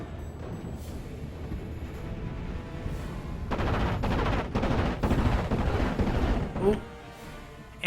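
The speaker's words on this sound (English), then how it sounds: "But you got this rocket strafing." Aircraft rocket strafing in the WWII strategy game Steel Division 44 sets off a dense run of gunfire and blasts that swells in the middle, heard over a steady battle rumble.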